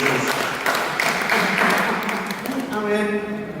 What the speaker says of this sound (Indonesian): Berikan tepuk tangan yang meriah oleh Tuhan Yesus.